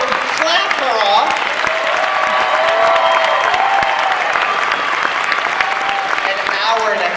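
A crowd claps steadily and loudly throughout a masquerade costume show at Crunchyroll Expo 2018, with scattered cheers and voices mixed into the applause.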